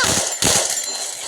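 Two sharp bursts of video game gunfire cut through a dense, noisy game soundtrack, the second blast hitting harder than the first.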